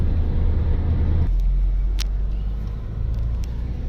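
A Renault Megane 2 with a freshly rebuilt engine drives in heavy traffic, giving a loud, steady low rumble of engine and road noise from inside the car, with a few faint clicks and squeaks.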